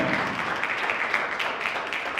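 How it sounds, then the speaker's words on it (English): Audience members clap in a sustained, even burst for marching brothers who have just halted from a drill, the applause filling the whole moment without any talk. "Give these brothers a strong round of applause"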